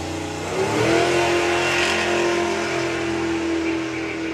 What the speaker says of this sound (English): Actually hear the tyres chirping as she goes down the track.